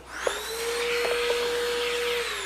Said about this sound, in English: We've got our handy dandy vacuum near here.